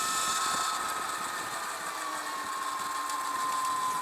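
A BAC2000-powered Sur Ron Light Bee electric dirt bike runs at half throttle on a track day, giving a steady, fairly loud electric motor whine with a sustained high tone that drifts slightly lower, with no talking.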